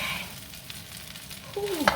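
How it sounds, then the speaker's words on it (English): Steady sizzle and hiss of vegetable fried rice frying as it is stirred around a pan, with scraping movements and a brief squeaky tonal sound near the end. "Just keep stirring it until your rice changes colors"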